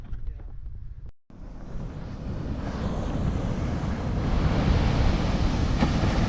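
Ocean surf at the North Shore rolls in on a rainy day, a steady broadband wash of breaking waves mixed with wind buffeting the microphone, growing slightly louder toward the end, with no talk.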